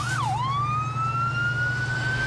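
A loud, close ambulance siren sweeps down and then rises into a sustained wailing tone over a low engine hum.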